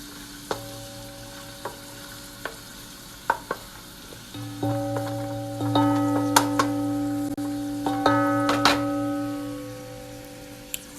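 Half a small diced onion hits a pan on a stove at medium heat for curry chicken. After a few isolated ticks, a steady sizzle starts midway and continues with light crackles over a constant low hum.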